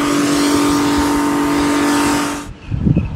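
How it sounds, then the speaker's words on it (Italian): A boat's anchor windlass runs with a loud, harsh, grinding mechanical drone and a steady motor hum, then cuts off abruptly near the end, leaving faint rumbling. "il verricello fa un rumore brutto"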